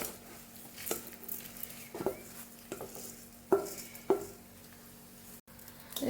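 Soaked rice and raisins being stirred in a wok over low flame for basanti pulao, giving a handful of scraping, clattering strokes against the pan over faint background noise.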